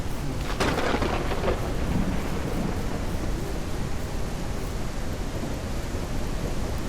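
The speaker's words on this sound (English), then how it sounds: "not only is it continuing to rain, it's getting worse." Steady rain pours throughout in the Ranch Simulator game world, with a rolling rumble of thunder near the start fading into the continuous hiss of falling rain.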